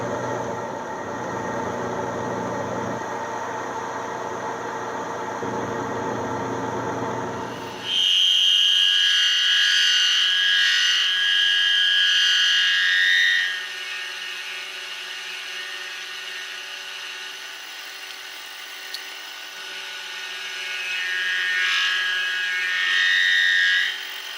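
A grinder cuts slots in metal after a plunge cut: a low motor drone gives way to a shrill, high cutting whine that rises and falls in two sustained passes, heard close with no talk.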